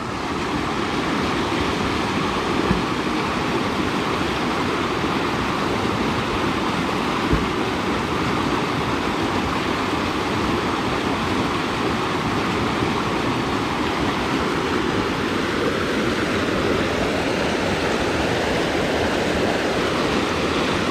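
Steady, broadband rush of the Tou river flowing, loud and continuous throughout with no breaks, like a fast stream close by.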